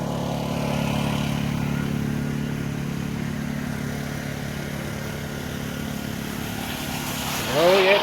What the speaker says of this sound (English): you'll probably hear the load when the pump starts